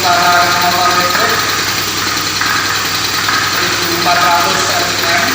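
An electric motor drives a compressor on a mechanical-engineering lab test rig, giving a steady, loud, continuous hum and whir with no change in pace, while voices carry faintly over the machine.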